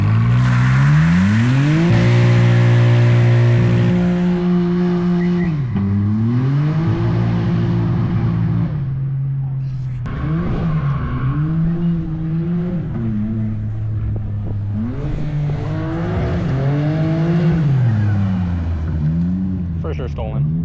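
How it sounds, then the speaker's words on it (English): A car spins donuts at a BMW meet turned street takeover, its engine revving hard in rising and falling sweeps that stay loud and near across the whole stretch, with voices talking underneath. "Donuts and wheels?"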